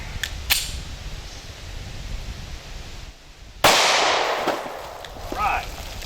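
A Smith & Wesson M&P Shield .45 ACP pistol fires +P rounds outdoors into a water jug, one sharp loud crack followed by a rushing burst of splash and spray.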